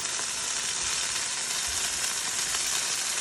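Chicken for chicken piccata frying in a pan over high heat, giving a steady, dense, close sizzle with crackling spatter throughout and no talking.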